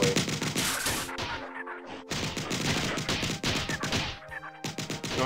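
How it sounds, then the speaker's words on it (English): Enemies fire guns in the classic shooter Marathon: dense, continuous bursts of loud overlapping gunfire and crashing impacts, with a couple of short pauses, no voices. "I think they're all shooting at me"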